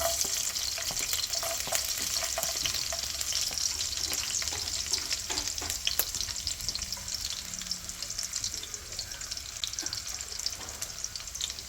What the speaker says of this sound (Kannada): ಈಗ ಫಸ್ಟು ಬೆಳ್ಳುಳ್ಳಿ ಹಾಕ್ಕೊತಾ ಇದ್ದೀನಿ